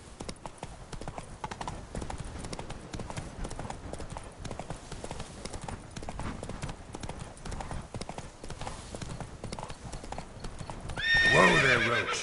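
Roach, the horse in The Witcher 3, gallops with a fast, continuous clip-clop of hooves, then gives a loud, close neigh near the end.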